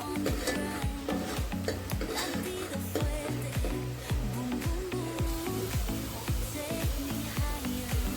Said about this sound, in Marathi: मी तेलात आता वाटलेला हिरवा मसाला टाकून घेतला आहे तो आता मस्त तेलामध्ये भाजून घेते